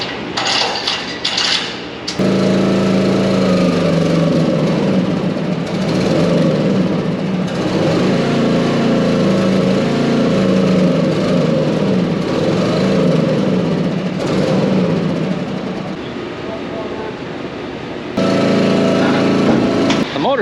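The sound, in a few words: roll-off dumpster truck motor running then shutting off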